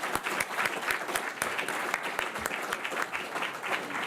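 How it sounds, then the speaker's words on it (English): Audience applause at a lunch program: a roomful of people clapping with distinct sharp individual claps standing out over the steady patter, continuing evenly. "I want us to give a big, big round of applause to all of these contributors"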